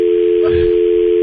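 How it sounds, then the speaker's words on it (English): A telephone dial tone hums loud and steady throughout, with a brief soft disturbance in the middle as someone tries to dial. "Now you're trying to dial your phone."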